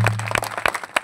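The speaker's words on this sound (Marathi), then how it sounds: "एकदा या सर्व मंडळींकरता एकदा टाळ्या वाजवा," An audience at a kirtan claps briefly, a short patter of uneven, close hand claps.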